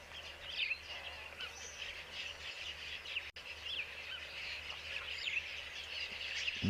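Birds chirp and call steadily over a rustling outdoor ambience, several voices overlapping at a moderate distance with no talking.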